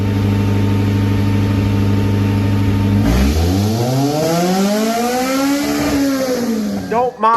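A race car running on a dyno with its tires spinning: a loud steady engine drone, then a sweeping rev that rises and falls, close and dominant throughout.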